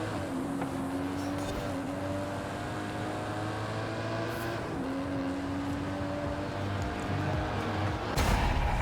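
An Aston Martin DB11 races in Forza Horizon 5, its engine a continuous loud droning roar with shifting pitch that holds steady throughout before a sharp burst near the end.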